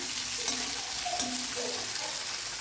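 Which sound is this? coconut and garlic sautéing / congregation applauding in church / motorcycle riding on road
coconut and garlic sautéing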